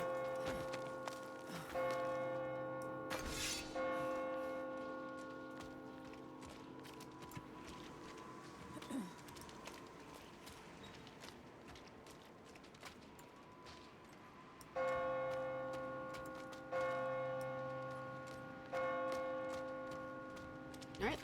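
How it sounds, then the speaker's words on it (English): A church bell rings in the video game Diablo IV, striking several times with long, ringing decays. It goes quiet for a stretch, then a fresh series of clear, resonant strikes returns. "so let's go see what the church bell's doing."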